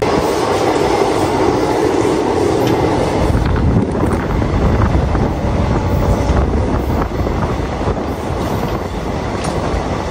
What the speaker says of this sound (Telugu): ట్రైన్ ని లాస్ట్ ఫ్యూ కిలోమీటర్స్ నుంచి చాలా స్లోగా తీసుకెళ్తున్నాడు